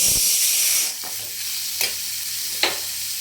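Chopped carrots hiss and sizzle loudly in a hot pan, then quieter frying continues with a few soft scraping stirs. Close up, with no talking.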